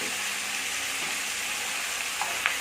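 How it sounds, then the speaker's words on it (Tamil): Ginger and radish sauté in a pan for a radish chutney, giving a constant close sizzle. Near the end come a couple of faint clinks of stirring. "எல்லாமே நல்லா வதக்கிடும் கூடவே முள்ளங்கியும் போட்டுருங்க"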